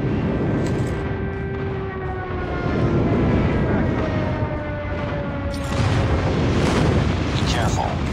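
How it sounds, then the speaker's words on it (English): Enemy aircraft drone overhead in a shooter video game as an airstrike lands, a sustained roar of engines with rumbling explosions and rising intensity, continuous and fairly loud throughout. "Enemy airstrike incoming."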